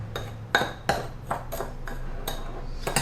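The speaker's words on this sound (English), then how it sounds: "add the Agar Agar powder into the sugar and mix it with sugar" A spoon mixes agar agar powder into sugar in a bowl, tapping and scraping against the bowl in a steady series of about seven bright clinks, close and fairly distinct over light background noise.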